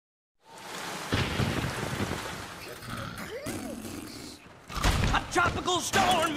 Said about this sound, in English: Tropical storm is coming